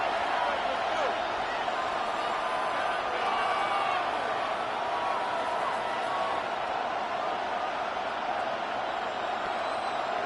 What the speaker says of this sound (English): The crowd cranking it up another notch before third and long.